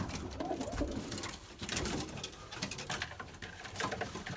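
Pigeons coo softly amid a busy patter of wings and feet, with rustling and scratchy movement close by and no talking.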